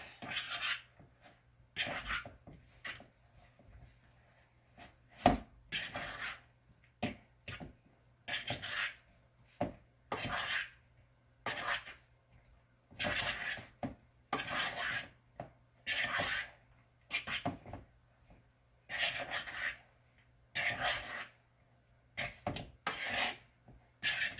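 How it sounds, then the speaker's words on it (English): A fork scrapes and rasps against a bowl in repeated short strokes with brief pauses between, close and fairly quiet, as food is coated in cornstarch. "Bowl scraping with a fork."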